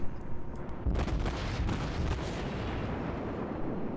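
Admiral Hipper cruiser from World of Warships firing high-explosive shells, heavy booming salvos with rumbling blasts and a dense, roaring tail, loud and continuous for a few seconds.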